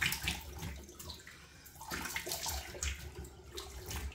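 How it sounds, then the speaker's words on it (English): Tap water runs steadily into a sink while a face is rinsed during a wet shave, with splashing bursts rising and falling up close and no talking. "let me rinse my face"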